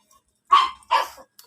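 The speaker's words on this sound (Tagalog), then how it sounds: "Sabak ng aso." A dog gives two short, sharp barks close by, one right after the other, with silence around them and a faint click at the end.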